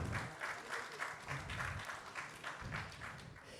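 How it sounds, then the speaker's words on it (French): Audience applause at a conference on responsible European economy, steady clapping from a seated crowd welcoming a guest, moderately loud and continuous, with a faint voice underneath at times. "vous pouvez l'applaudir."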